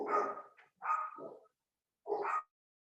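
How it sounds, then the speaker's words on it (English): Several dogs bark in three loud bursts, two close together and a third after a short pause, near and alone with no voices. "The dogs are going crazy."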